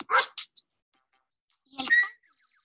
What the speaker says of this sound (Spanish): El ladrido del Draco, por ejemplo, es un sonido grave.